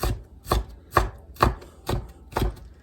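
Onions are chopped small on a board for barbecue sauce, six crisp evenly spaced knife strikes heard up close, with no talking.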